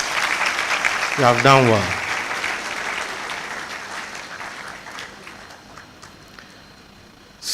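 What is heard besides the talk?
audience applause at graduation ceremony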